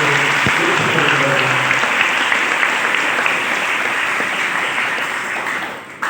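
An audience claps warmly for their parish priest, a dense, continuous wash of applause that holds steady for several seconds and then eases off slightly at the end.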